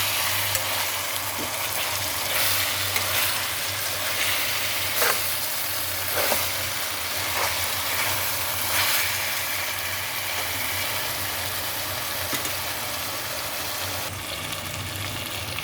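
Masala of fresh coconut, poppy seeds and cloves frying in a pan for a curry, a steady close sizzle with occasional stirring scrapes and no talking.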